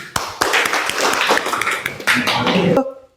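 Children in a classroom clap through a call-and-response clapping game, sharp rhythmic hand claps in bursts with a teacher's voice calling between them, ending abruptly.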